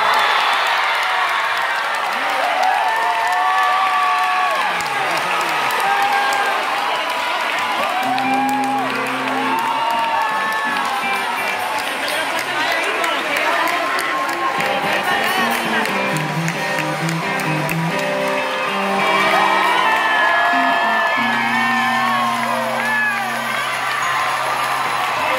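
A live concert crowd in Huelva greets the singer with loud, sustained applause, cheering and whoops, a dense roaring wash that stays full throughout, with shouted voices and some music or singing tones rising through the noise.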